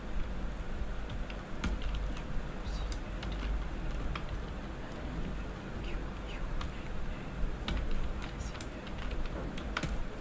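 Rapid typing on a computer keyboard while a CV is being written in Microsoft Word 2010, with quiet, irregular clicks of keys scattered throughout over a low background hum.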